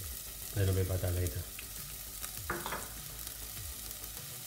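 Oil heats in a pan as a sauce is started, giving a soft sizzle with a short louder burst of frying and stirring early on, then quieter crackle, while a voice speaks briefly.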